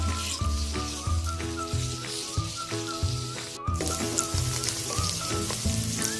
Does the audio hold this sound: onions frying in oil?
yes